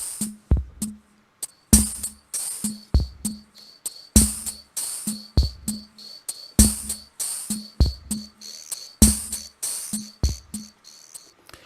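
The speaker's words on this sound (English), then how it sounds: "I thought that the guiro sound, again, it sounds almost like frogs or insects or crickets" A CR78-style drum machine preset rhythm with a scraped guiro voice, which resembles crickets or frogs. It plays repeated rasping strokes in a steady looping pattern with sharp electronic hits, loud and alone.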